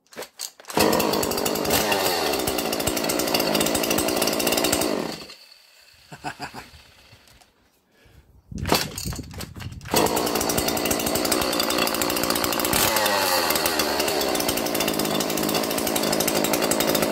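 A Stihl MS150 chainsaw, just repaired after an electrical fault, running loud and close with high revving whine, dropping briefly to idle and near silence, then roaring back up to sustained high revs.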